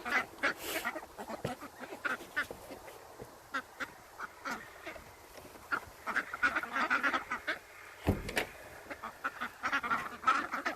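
Ducks at a house construction site quack in quiet, scattered bursts, a few calls overlapping now and then, with wind noise and a sharp knock partway through.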